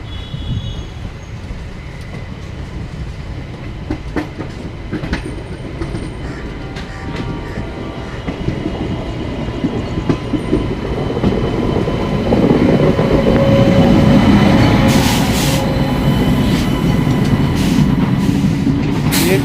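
The 13151 Kolkata–Jammu express train stands and shifts at Shahganj station with a broken-down locomotive, a loud continuous rail rumble that swells and gains squealing, clanking wheel noise toward the end.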